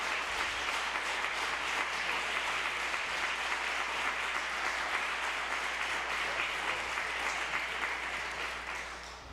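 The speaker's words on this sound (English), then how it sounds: "let's give him a round of applause." An audience gives a sustained round of applause at a live music conversation event, dense steady clapping from a crowd that carries on for several seconds and fades slightly at the end, with no talk over it.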